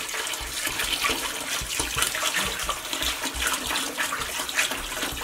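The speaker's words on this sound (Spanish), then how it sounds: "le estoy poniendo agua de galón." Gallon water poured into a cooking pot holding beef loin, a close, continuous gushing splash that churns unevenly for several seconds.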